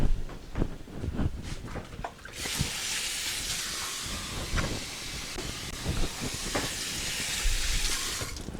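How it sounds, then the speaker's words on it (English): Steady loud hiss of a chicken tortilla quesadilla sizzling on a hot griddle, preceded by a few sharp clanks and scraping sounds. "Okay, you hear the sizzle?"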